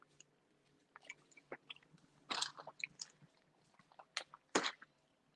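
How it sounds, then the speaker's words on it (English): Someone chewing snack food close to the microphone, soft wet crunches and bites in irregular bursts with quiet pauses between. "I'm sorry if you guys can hear me chewing."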